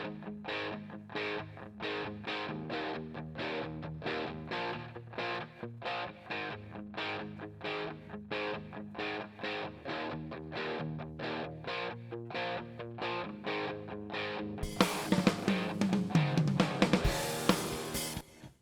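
Electric guitar run through a center delay effect plugin, playing a steady rhythmic strummed pattern of evenly spaced chords, then swelling into a denser, brighter, louder wash near the end; no talking.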